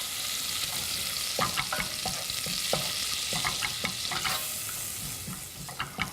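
Flour being stirred into a roux that thickens and clumps in the pan, heard as a series of close, uneven scraping and stirring strokes over a faint background hiss, with no talking.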